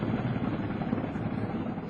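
An emergency helicopter flies close by, its loud, steady rotor drone filling the air during an evacuation of survivors to Camp Bastion in Afghanistan.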